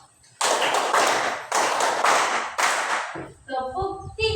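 A class of pupils claps in unison on a teacher's command, playing three bursts of rapid, loud group claps in a rhythm pattern. A voice speaks briefly at the end.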